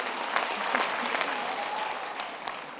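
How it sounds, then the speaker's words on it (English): Audience applause at a university graduation ceremony, a steady wash of many hands clapping throughout, moderately close and filling the hall, with a faint tonal sound briefly underneath. "Give them another round of applause"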